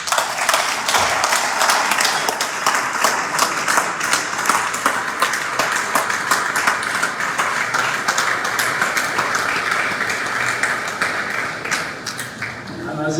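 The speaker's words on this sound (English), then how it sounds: "the least we can give them a round of applause" A room full of people at a meeting gives a sustained round of applause, dense continuous clapping that stays loud for most of the stretch before thinning toward the end.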